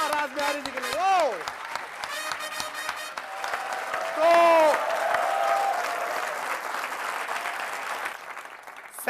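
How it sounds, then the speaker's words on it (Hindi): Loud audience applause for a performer at a poetry gathering, a steady crowd clapping underneath a voice that keeps talking over it. "एक बार जोरदार तालियां रास बिहारी जी के लिए।"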